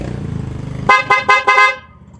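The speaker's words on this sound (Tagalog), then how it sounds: "Press mo lang, loud horn ulit." A loud, brassy aftermarket motorcycle horn blares in four quick bursts after a low engine idle.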